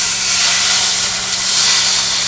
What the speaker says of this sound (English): So we want to sear the meat,